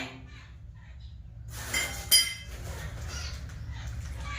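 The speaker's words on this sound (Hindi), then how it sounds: "आप एक पात्र में जल डालेंगे और जल के बाद में उसमें थोड़ी सी रोली डालेंगे।" Water is poured into a vessel for a Shiva worship offering, with a close metallic clink from the container followed by a steady, soft trickling hiss over low background hum.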